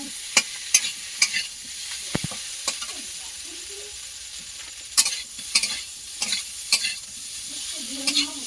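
Elephant foot yam curry with katla fish sautéing in a pan, a soft steady sizzle broken by repeated sharp scraping and clinking stir strokes at an irregular rhythm, close up.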